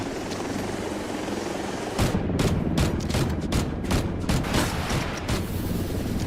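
Gunfire in the video game Delta Force, rapid bursts of shots over a constant helicopter rotor drone, with a sharp onset partway through and repeated crackling volleys after it.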